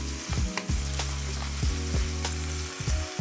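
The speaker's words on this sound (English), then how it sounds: "now you can go in and begin to mix your ground beef up" Ground beef browns in a skillet for lasagna, giving a steady close sizzle and frying crackle, with several scraping stirs of a utensil across the pan and no voices.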